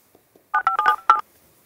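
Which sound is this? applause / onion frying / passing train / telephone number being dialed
telephone number being dialed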